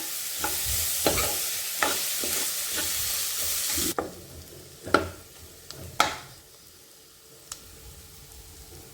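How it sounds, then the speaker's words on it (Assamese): Vegetables for pasta stirred in a pan with red chili, a soft sizzle under several sharp spoon scrapes and knocks spaced a second or two apart, fairly quiet and close. "চব্জিখিনি লৰাই লওঁ"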